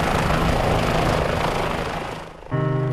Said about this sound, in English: the Army bid farewell to the Kiowa Warrior helicopter